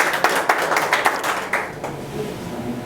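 A burst of rhythmic clapping from an audience, steady claps that fade after a couple of seconds into a low room murmur.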